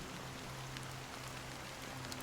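Steady rain falls in the video game Honkai Star Rail, a continuous, even hiss of drops with a low ambient drone beneath, unbroken for the whole stretch and with no voices.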